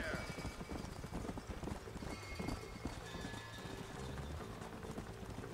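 Hooves beat fast and steady as a horse gallops in the Western game Red Dead Redemption, with occasional whinnies, all under continuous in-game sound and some talk.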